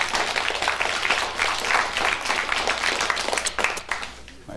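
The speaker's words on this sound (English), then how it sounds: "Big round of applause." Studio audience applause at a 1987 Peterborough campus quiz show, a dense steady clapping that fills the whole stretch at fairly loud level, with no clear talk over it.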